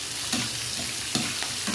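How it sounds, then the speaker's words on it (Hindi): Chopped onions fry in a pan for a Punjabi-style soya badi pulao, a close, steady sizzle broken by a few scraping stirs of a spoon. "इसमें हम डाल देंगे कटे हुए प्याज, और प्याज को अच्छे से भून लेंगे।"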